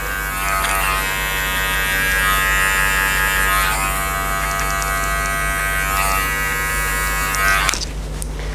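Hair clippers with a metal guard cutting a skin fade in a barbershop, a steady close electric buzz with a constant hum that runs throughout and cuts off near the end.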